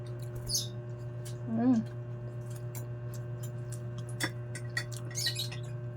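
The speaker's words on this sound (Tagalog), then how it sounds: "Talaga tong ibon na ito." A bird gives a few brief, faint chirps and a short warbling call over a steady low hum, with sparse clicks and ticks around it.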